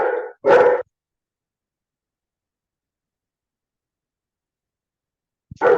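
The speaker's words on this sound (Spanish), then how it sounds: "esperen que hago callar al perro" A dog barks indoors in a few short, sharp bursts: two quick barks close together at the start, a long silence, then another bark at the end.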